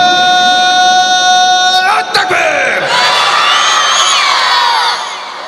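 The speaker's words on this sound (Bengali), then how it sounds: "এই জন্য একটু জোরে তাকবীর দেওয়া লাগবে।" A crowd at a religious gathering loudly shouts the takbir in unison after one voice leads, a full roaring chorus that swells and then tapers off.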